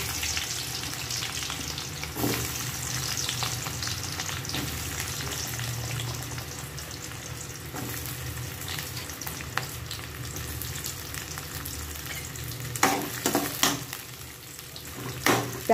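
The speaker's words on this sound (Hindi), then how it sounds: "उसके बाद में हम प्याज डाल देते हैं" Onions frying in oil with cardamom for butter paneer masala, a steady close sizzle filling the pan throughout, with occasional scraping stirs and a few louder spatula clatters near the end.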